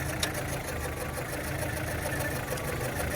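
A 4-cylinder car engine idles roughly after a spark plug change, a steady close mechanical rumble with an uneven, slightly knocking pulse that runs on its own throughout.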